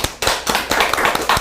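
A crowd at a Korean political forum claps to welcome a party leader to the stage, giving a brief burst of dense, sharp applause with uneven loud swells.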